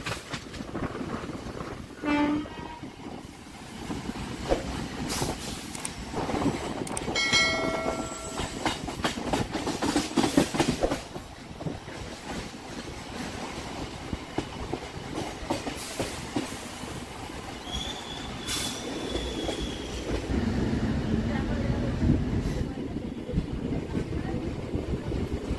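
A Sealdah-Dankuni local train runs steadily along the rails with continuous rumble and clattering wheels, loud and close throughout, with a brief whistle-like tone and some voices in the background.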